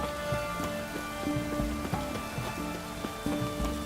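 Steady rain hisses in The Witcher 3: Wild Hunt, a soft wash of falling drops with tonal musical notes layered over it and no speech.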